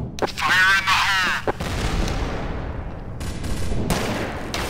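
Grenade blasts and gunfire in the Counter-Strike: Source video game, with a shouted voice early on, then booming explosions and rattling shots that keep rumbling to the end.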